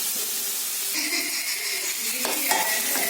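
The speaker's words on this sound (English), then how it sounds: "Just close the lid and let the onions cook." Onions cook in a lidded pan for a vegetable masala curry, giving a steady close sizzle and hiss with a brief scrape or clink of the pan partway through.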